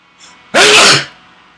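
A single loud, close sneeze bursts out after a brief breath in, then fades quickly.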